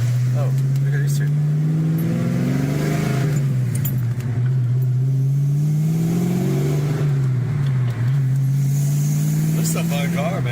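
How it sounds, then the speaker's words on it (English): A car's exhaust rumbles steadily with rising and falling revs, loud and close, while people talk over it. "There's no better sound than this exhaust here."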